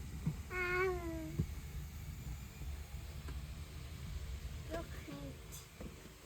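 A cat meows twice at close range, a drawn-out cry and then a shorter one a few seconds later, over a quiet room hiss.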